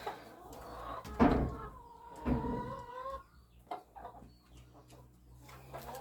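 Hens cluck in a backyard coop: a few nearby calls rise over a quiet background, with softer clucks scattered between them.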